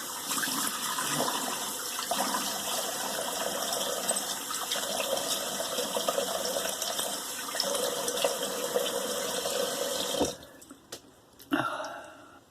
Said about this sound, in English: I'm going to do a cold rinse.